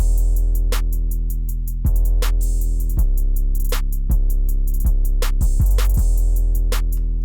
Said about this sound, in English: all the 808s hitting when the kicks are hitting